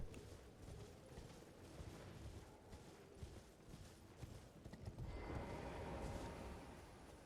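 A horse gallops in Elden Ring, with rapid hoofbeats rolling on steadily under a busy, dense layer of game noise.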